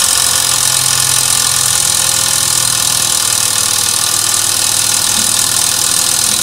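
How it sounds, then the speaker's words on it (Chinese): A VP44 reverse-rotation fuel injection pump running steadily on a test bench, giving a constant mechanical hum with a faint knocking rhythm, loud and unbroken, with no talk. "这是一个反转泵， 达到相应的转速。"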